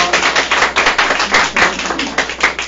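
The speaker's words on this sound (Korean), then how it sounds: "오늘 두 분의 패널께 감사 박수 한번 드릴까요?" Warm audience applause for the panelists at a book forum, a short, dense burst of clapping close by with no one speaking.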